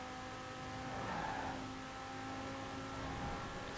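A 1997 Lotus Elise GT1 in Forza Horizon 4 drives along a motorway with its engine droning at a steady pitch, faint and fairly even throughout.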